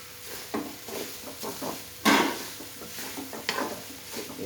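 A methi laddu mixture is roasted and stirred in a pan, with a spoon scraping and knocking against the metal at irregular intervals over a soft background sizzle, and a louder clang partway through.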